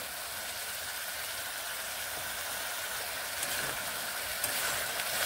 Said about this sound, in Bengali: মশলাগুলোকে বেশ ভালোভাবে এইভাবে কষিয়ে নেব।